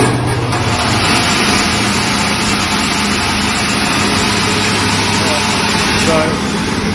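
A sander grinds down the heads of wooden tool handles so they fit the tool's hole, giving a loud, steady motor roar with a continuous grinding hiss that runs unbroken for the whole stretch.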